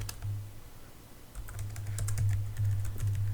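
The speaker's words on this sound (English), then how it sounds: "Now I'm typing literally every word he's saying" Rapid, steady clatter of keys on a computer keyboard, close up, with a low hum underneath and no talking.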